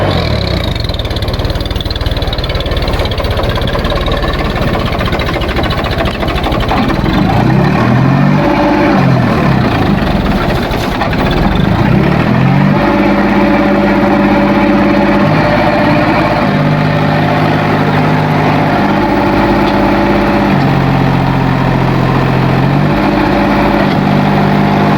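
A sugarcane cart vehicle's engine runs continuously, loud and close, with a rough idle that shifts into a steadier, higher-pitched drone partway through.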